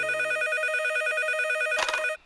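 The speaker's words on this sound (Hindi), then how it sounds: "हेलो, आपने लखा को फोन किया?" Cartoon telephone ringing with a rapid, repeating electronic trill, loud and close, that cuts off with a click as the receiver is picked up.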